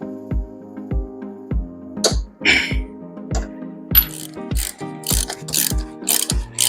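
A hand ratchet tightens the wheel speed sensor bolts on a Nissan Micra during an ABS sensor replacement, with quick, close clicks in short strokes, regular at first and then faster and louder toward the end.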